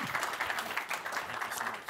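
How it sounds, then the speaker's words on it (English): Audience at a cybersecurity conference hall claps after a talk, a short, fairly soft patter of many hands heard alone. "Let's give a round of applause."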